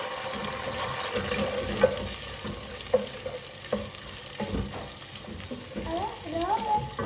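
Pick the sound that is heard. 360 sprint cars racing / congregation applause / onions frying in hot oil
onions frying in hot oil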